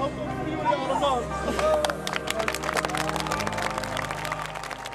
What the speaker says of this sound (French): Dans les tribunes, des applaudissements retentissent devant son frère, en son honneur.